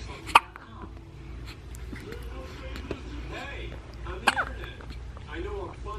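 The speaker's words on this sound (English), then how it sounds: "And now you got the hiccups." Baby hiccups come through as two sharp, brief bursts several seconds apart, close by, over a quiet room with soft background noise and a voice talking.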